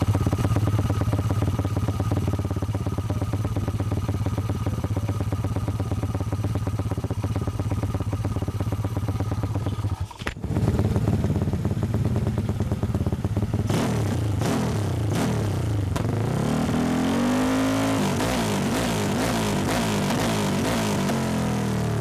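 A Yamaha Lexi 2018 scooter engine with a 50 mm AHM aftermarket silencer and 31-to-50 header idles steadily with a rough clatter, cuts briefly, then revs up in repeated rising and falling bursts, loud and close with no talk.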